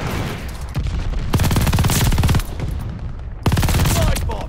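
Light machine gun fire in a Call of Duty Vanguard match, loud sustained automatic bursts, with a long stream near the middle and another burst near the end.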